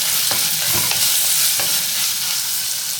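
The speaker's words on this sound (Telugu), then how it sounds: "ఇది పచ్చివాసన పోయేంత వరకు మంచిగా వేగనివ్వాలి" Vegetables fry in a hot pan for a vegetable pulao, a loud, steady sizzle that fills the whole moment with a few soft stirring bumps and no voices.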